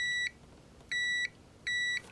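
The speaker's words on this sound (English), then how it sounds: "that beep" A DCC decoder on a model railway track cleaning car gives three evenly spaced, clean electronic beeps, each about a third of a second long, faint against a quiet background.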